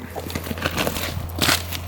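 Hens cluck and murmur close by in a busy flurry, with a louder burst of clucking near the end over steady low background hum.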